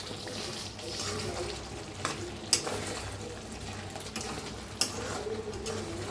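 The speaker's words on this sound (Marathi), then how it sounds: "आता जरा मिक्स करून घेऊया." A spoon stirs stuffed capsicum curry thickened with roasted gram flour in a pan, giving a continuous soft wet scraping with a couple of sharper clinks against the metal, close up and with no talking.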